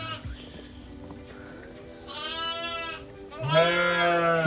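A lamb bleats beside a Welsh Mountain ewe that is partway through lambing on a farm, giving two drawn-out, wavering cries, the second louder and closer, over low background noise.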